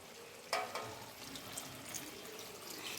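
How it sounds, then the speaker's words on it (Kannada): Water tipped from a plate into fish curry masala frying in oil gives a soft splash, followed by a quiet, continuous sizzle and bubbling close by. "ಈಗ ನಾನು ಈ ಪ್ಲೇಟ್ನ್ಯಾಗಿಂದ ನೀರು ಹಾಕ್ಕೊತೇನೆ ರೀ ಅದ್ರಾಗ"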